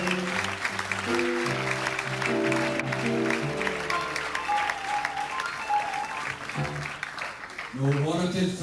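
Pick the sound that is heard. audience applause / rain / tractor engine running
audience applause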